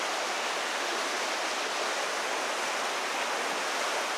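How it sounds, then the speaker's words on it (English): A canyon stream rushes below a wooden plank trail in Johnston Canyon, Banff National Park, heard as a steady, even roar of water with no breaks, moderately loud and alone. "Can't see the water rushing by"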